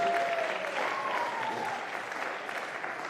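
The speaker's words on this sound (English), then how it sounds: "A round of applause for Stan now, please" Steady, dense applause from a crowd at a squash league match in Rotterdam's Frans Otten Stadion, sustained and fairly loud throughout, with a faint voice briefly audible at the start.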